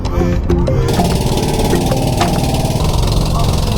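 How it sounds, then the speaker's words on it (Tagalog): A boat engine sputters briefly, then settles into a loud, steady chugging drone that continues throughout, with faint clatter in the background, on a boat at Cagbalete Island. "maya-maya pa ay napaandar na ni Kuya ang kanilang bangka"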